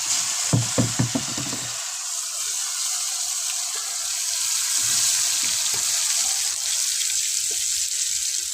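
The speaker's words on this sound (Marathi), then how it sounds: "परतून घेते चांगलं तेलामध्ये" Onion-tomato spice paste sautéing in oil in a pan over a wood-fired stove: a few clanks of a spoon at first, then a steady broad sizzle that swells slightly midway.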